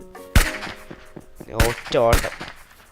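Three sharp gunshots ring out at uneven intervals, with someone talking between and over them.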